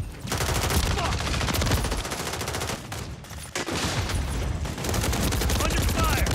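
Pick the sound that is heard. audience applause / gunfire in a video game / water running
gunfire in a video game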